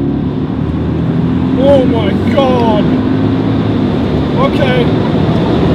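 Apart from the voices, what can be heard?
sports car engine revving, standard exhaust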